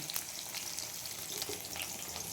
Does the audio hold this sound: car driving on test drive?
no